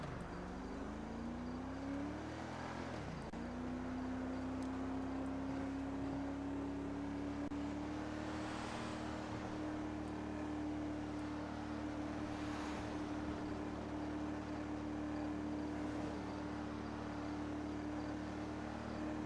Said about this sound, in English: Now, the Charger that I'm driving is pretty good